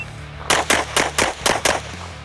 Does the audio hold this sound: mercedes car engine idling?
no